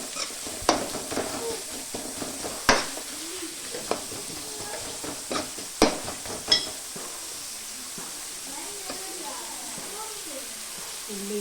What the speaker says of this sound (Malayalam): സവാള നല്ലോണം വഴറ്റി വരട്ടെ. അതിലോട്ട് കുറച്ച് കരിവേപ്പില നമുക്ക് ഇട്ട് കൊടുത്തിട്ടുണ്ടല്ലോ